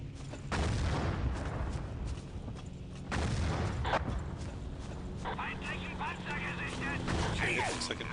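Heavy tank cannon fire in Battlefield 1942 at Kursk, a couple of booming shots and rumbling battle noise under steady talking.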